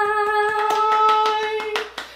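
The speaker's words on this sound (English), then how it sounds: "Clap your hands up" Hands clap in a steady, quick rhythm along to a children's goodbye song at music time, with sustained singing and musical tones running underneath the claps.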